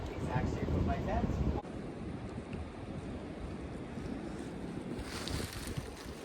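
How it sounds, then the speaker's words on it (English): Strong wind rushes across a mountain campsite on the Appalachian Trail, a steady roaring gust noise buffeting the microphone throughout, with faint talk under it. "The wind is really picking up"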